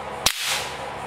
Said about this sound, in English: It is clear that the PBA ammo has a much louder report.